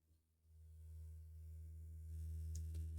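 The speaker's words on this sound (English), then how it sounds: "you see that that sine wave disappears and then it comes back" Steady low sine wave test tone played through a Klipsch SW-450 subwoofer amplifier with a cutting-in-and-out fault, a continuous hum that starts quiet, then holds louder with a few faint high clicks near the end.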